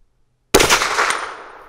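A single loud CVA Hunter .44 Magnum rifle shot rings out sharply at a small plate target outdoors, its blast and echo decaying over about a second.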